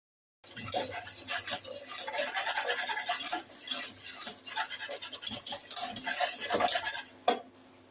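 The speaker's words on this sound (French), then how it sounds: "Je pense que je vais passer au fouet." A whisk scrapes and clinks rapidly against a bowl as it stirs homemade flan pâtissier batter while milk is added. The whisking is close and continuous, with brief pauses.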